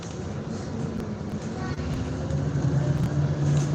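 Steady low engine drone and road rumble inside a moving bus, fairly loud and continuous, with a hum rising toward the end.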